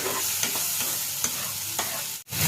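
Spices and green chillies frying in oil, a bright continuous sizzle with a few light stirring scrapes, close up, cut off abruptly near the end before resuming.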